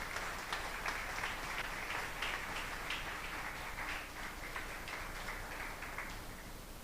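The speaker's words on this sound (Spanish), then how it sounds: "Dale un fuerte aplauso." A congregation applauding during a New Year's Eve church service, a steady, fairly faint patter of clapping heard at a distance throughout.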